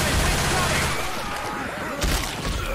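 Rapid pistol gunfire in the zombie shooter Left 4 Dead 2 comes in dense, overlapping cracks with game noise behind it, and players talk over the shooting.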